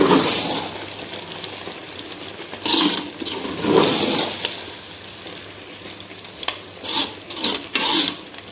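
Mutton biryani with basmati rice being stirred in a cooking pot, a few soft scraping and rubbing strokes against the pot in bursts, close and fairly quiet, with no talking.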